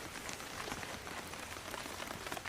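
Rain falls steadily in a village setting, a dense even patter of drops on surfaces filling the whole stretch, close and unbroken with no voices.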